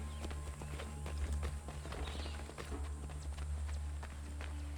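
Horse hooves clip-clop steadily in a frontier-themed video game, a rapid walking rhythm close and moderately loud over a low ambient hum.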